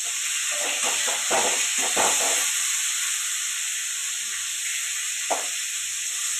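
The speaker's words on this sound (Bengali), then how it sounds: "একটু ফুলকপিটা একটু তেলে ছাকা ছাকা করে ভেজে নিচ্ছি" Cauliflower deep-fries in hot oil, a loud continuous hissing sizzle with some bubbling and a couple of brief clinks from stirring in the first seconds.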